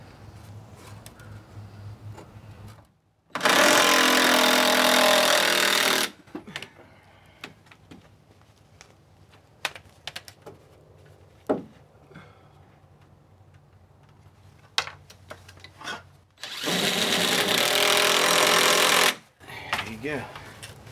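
Power saw cutting wood while repairing and extending a deck: two loud sustained cuts of roughly three seconds each, separated by quieter stretches with knocks, bird calls and a person talking.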